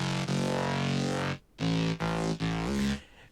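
First layer of a hardstyle synth bass line, a distorted character sound playing loud, buzzy sustained notes with a couple of short breaks between them.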